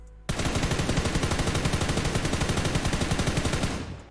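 Sustained automatic gunfire while hip firing in PUBG New State, a loud, fast, even rattle of shots beginning abruptly and running unbroken for several seconds.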